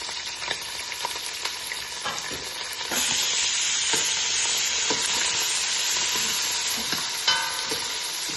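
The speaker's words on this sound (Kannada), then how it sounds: "ಸೊ ಮೆಣಸಿನ್ಕಾಯಿ ಜೊತೆ ಅದೇ ಈರುಳ್ಳಿನೂ ಮಿಕ್ಸ್ ಮಾಡ್ಕೊಳ್ಳಿ" Chillies and onion stir-frying in a pan for masala chitranna, with a steady sizzle and repeated scrapes and clinks of a stirring spoon; the frying grows louder partway through and continues alone.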